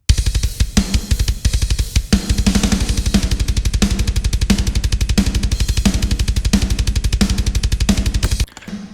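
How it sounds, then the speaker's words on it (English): Full metal drum mix built from layered drum samples, including sampled snare and toms. Fast, steady double-kick and snare hits hammer on without a break, loud and dense, with cymbal wash over them until it drops away near the end. "So this is the full drum mix"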